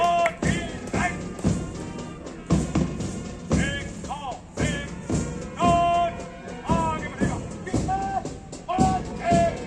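A marching band plays its tune at a founders' day parade ground ceremony with a platoon drilling, loud thumping drum hits in steady rhythm under bright brass notes, with crowd noise around.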